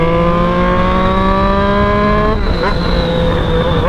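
Yamaha XJ motorcycle revving hard with a rising, harmonic engine whine that peaks and drops as it passes close by, the pitch sliding down afterward under continuous loud engine noise.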